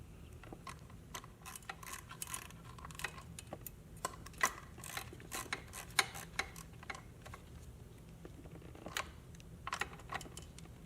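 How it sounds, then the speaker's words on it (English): Faint, irregular small clicks and ticks as nuts are threaded and tightened onto an LED tail light on a 2022 Honda Grom, with scattered close metallic taps in a quiet room. "next we're going to install the nuts back on the taillight"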